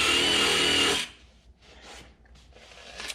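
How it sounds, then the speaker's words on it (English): A wire brush scours welded plastic, giving about a second of loud, harsh, steady scrubbing that cuts off abruptly and leaves only faint scraping and handling noises. "You can also use a wire brush on this. It will give you, remove some material for you,"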